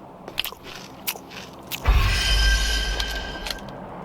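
Fruit being eaten in PUBG Mobile, a brief crunchy bite followed by a sustained chewing and squishing texture at moderate loudness, with no talking.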